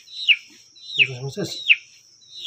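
A chicken held in someone's hand gives four sharp, high, falling squawks at a steady, evenly spaced rhythm, loud and close, with a brief burst of human talk between the second and third calls.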